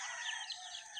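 Pet chickens cluck and chirp in a faint, brief burst of high, warbling calls, heard alone without speech.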